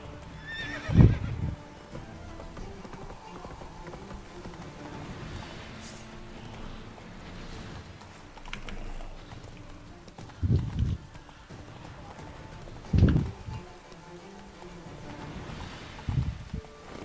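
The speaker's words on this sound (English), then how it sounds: "Oh god, this horse." A horse in a video game whinnies loudly several times over a low ambient hum, each neigh short and close, with no hoofbeats evident.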